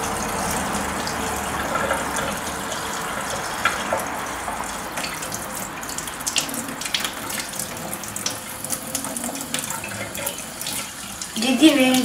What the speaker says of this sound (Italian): Aspettiamo che l'acqua diventi bollente.